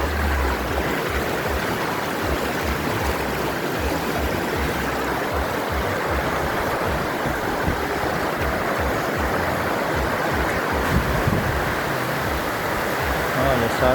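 A waterfall with dark water pours in a steady, loud broadband roar that stays even and unbroken throughout, with no talk over it.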